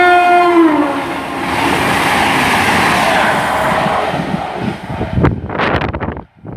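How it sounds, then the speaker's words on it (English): A passenger train on the Penzance to Glasgow Central service sounds its horn and then rushes past at speed, close and loud, with a sustained roar of wheels that ends in a rapid flurry of clacking as the carriages clear. "passing through now is the delayed Penzance to Glasgow Central service, right, passing about 8 or 9 minutes late"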